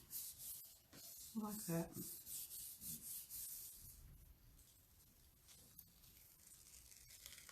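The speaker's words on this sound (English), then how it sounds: "And you just rub it all over" Paper is rubbed by hand over a stamped gel printing plate, a soft, close scuffing in repeated strokes that fades toward the end. A few quiet words of speech come in briefly.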